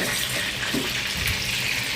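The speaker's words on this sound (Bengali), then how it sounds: "আর এখানে গোলমরিচটা ভাজতে দিচ্ছি" Black peppercorns fry in a pan with a steady, even hiss of sizzling oil and faint stirring scrapes underneath, moderately loud and constant with no talking.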